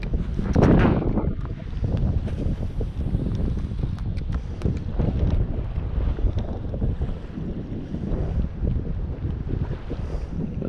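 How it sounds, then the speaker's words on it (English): Strong wind gusts roar across open water during kayak fishing, a steady loud rushing buffet against the microphone with choppy water noise underneath and no voices. "Hopefully this wind's going to die down here a little bit because it's rough."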